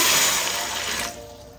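Water poured from a cup into a cooking pot for a quick soup, a steady splashing rush for about a second that then tapers off, close and alone.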